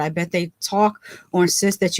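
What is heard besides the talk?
No everyday noises stand out.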